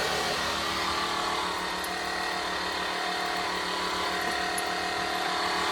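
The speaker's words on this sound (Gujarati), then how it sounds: "અહીંયાથી પિન લગાવી અને હવા બાઇકમાં ભરવાનું ચાલુ કરી દીધું." A motorcycle tyre is being inflated by an air pump after losing pressure following a ride to a farm, giving a steady, continuous mechanical hum and hiss that runs unbroken at close range, with no voices.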